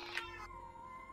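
A single short cat meow in the video game YIIK, fairly faint, over a steady low hum with no talk.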